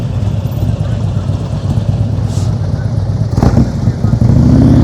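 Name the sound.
motorcycle engine throttling up during slow-speed riding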